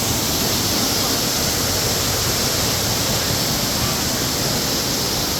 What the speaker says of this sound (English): The Onomea Waterfall is in the Botanical Gardens just outside and north of Hilo.